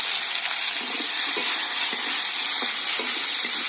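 Potato pieces frying in hot oil for a Bengali mourola fish curry, a steady, dense sizzle that carries on evenly throughout, close and fairly loud, with no talking heard.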